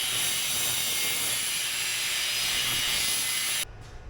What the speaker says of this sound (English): I'm gonna cut off a few chunks of this stuff